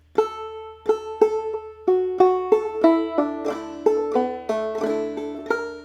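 Clawhammer banjo picking the tune Briarpicker Brown, a steady run of bright plucked notes and ringing strums in an even rhythm, played alone and close.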